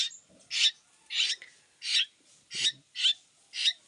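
Captive birds fed banana and mango squabble in a series of six harsh, evenly spaced calls, each a short loud burst separated by brief quiet gaps, close by with no talking.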